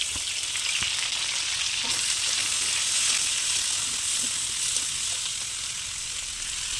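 Sliced onion and green chilli fry in a pan with potatoes. A loud, continuous close sizzle holds steady, with faint stirring taps and no talk.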